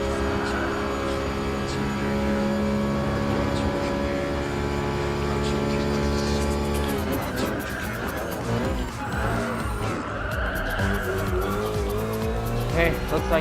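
A mid-engine (MR) race car in Gran Turismo Sport drones loudly at steady high revs, then its tires squeal and skid through a corner amid fluttering engine noise, with no talking.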